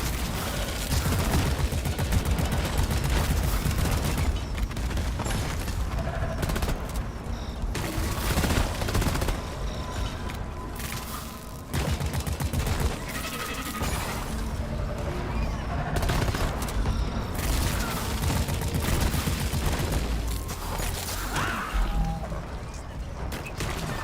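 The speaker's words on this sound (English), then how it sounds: "Using the turret." Sustained turret gunfire in the video game Deep Rock Galactic, a dense, continuous rattle of rapid shots with crashing impacts, loud and unbroken for the whole stretch, with only a brief dip near the middle.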